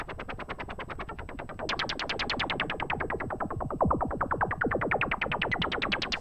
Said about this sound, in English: you're getting that kind of harsh white noise resonance coming up